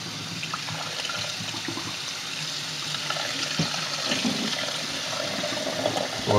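Water runs steadily from a tap to rinse out the cavity of a raw turkey, a continuous rushing splash that swells slightly toward the end, close and alone.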